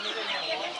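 Chickens cluck in a busy poultry market in Beruniy, a brief burst of dense, overlapping fowl noise under a noisy crowd wash.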